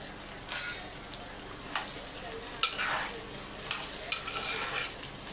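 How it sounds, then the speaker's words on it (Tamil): Ridge gourd pieces sautéing in a pan for sambar, with a soft, steady sizzle and occasional scraping stirs of a spoon against the pan, fairly faint throughout. "இப்போ வந்து சாம்பாருக்கு பீக்கங்காய் வதக்கி விட்டுருக்கேன்"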